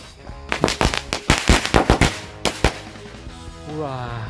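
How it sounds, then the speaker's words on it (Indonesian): A rapid string of sharp match-type firecracker pops bursts out, about a dozen loud cracks in quick irregular succession, then a brief pause and a fading hiss as blue smoke is released. "Ini adalah mercon korek guys."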